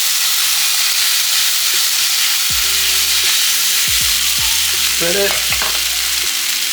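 Noodles and vegetables stir-frying in a hot pan, a loud continuous sizzle and hiss, with clanking of utensils against the pan in the second half and a brief voice.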